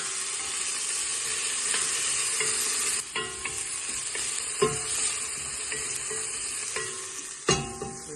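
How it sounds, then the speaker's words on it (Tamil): Biryani masala sautéed in a pan for Hyderabadi chicken biryani, a steady close sizzle broken by repeated sharp spoon scrapes and stirring clatters, with no voices. "நல்லா வதக்குவோம்."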